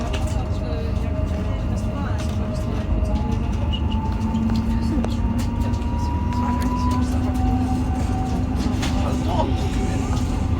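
A PKP intercity train pulls out of a Warsaw station, its steady rumble and faint rising tonal whine carrying through a first-class carriage, with occasional clicks and a loud continuous background level.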